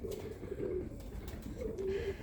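A Birmingham Roller pigeon coos softly in two low, faint phrases over a steady background hum.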